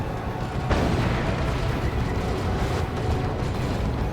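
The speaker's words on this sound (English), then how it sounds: "He's taking las cannon shots, taking plasma cannon shots too" Las cannon and plasma cannon shots slamming into a Nurgle Predator tank in Dawn of War 2, a dense barrage of loud booming explosions and sharp bursts layered over a continuous battle rumble.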